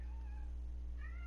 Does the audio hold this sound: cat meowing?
yes